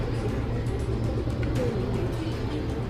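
Homing pigeons, including a red check Muleman among imported foundation birds, coo steadily in a loft, a continuous low murmur of several birds close by with a faint distant car.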